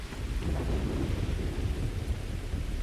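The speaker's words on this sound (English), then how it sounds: "Oh, but Sarah, it's raining" Steady rain in the Starfield video game, a dense, constant hiss of falling water with a low rumbling undertone throughout, with no one speaking.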